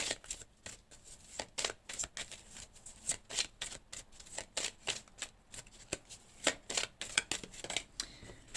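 Tarot cards are shuffled over and over in quick bursts of soft riffling and slapping, close and fairly quiet, in an irregular rhythm of short rustles with brief pauses between them.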